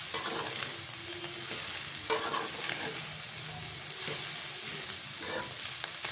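Capsicum and carrots for a chicken and vegetable spring roll filling fry in a pan, a soft continuous sizzle broken by scraping stirs and tossing, close and fairly quiet with no talk.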